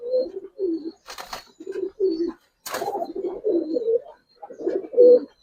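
Pigeons coo close by in a series of rounded, throaty bursts with short gaps, broken by a couple of brief rustling flurries and no talk.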